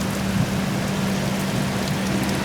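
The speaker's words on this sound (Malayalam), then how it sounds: "ഒരുമാതിരി മഴയാണ്." Heavy rain drums steadily on an AC 3-tier coach of the 12224 Duronto Express from Kozhikode to Mumbai as it nears Ratnagiri station, a constant dense roar with no voices.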